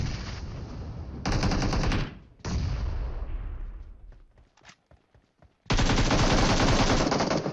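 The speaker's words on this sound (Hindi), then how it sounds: "क्योंकि फायर तो हो रहा आगे" Loud sustained automatic gunfire in the video game PUBG Mobile, coming in long close bursts separated by short gaps, with quieter scattered shots in the middle stretch.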